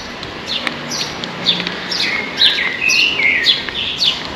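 Small birds chirp and tweet in short bright bursts throughout, fairly close, over quiet outdoor background noise in seaside Lazarevskoye, Sochi.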